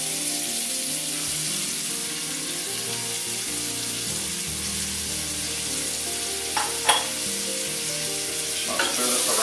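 Thinly sliced sweet onion and diagonally cut carrots sizzle steadily in a pan while being stirred, with a few sharp scraping knocks near the end as crispy bits are loosened from the bottom.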